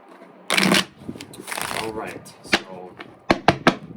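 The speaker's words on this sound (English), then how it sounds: "let me shuffle one more time just to get this right" Tarot cards are riffled and shuffled in quick papery bursts, followed by a few sharp taps and snaps, close up and fairly loud.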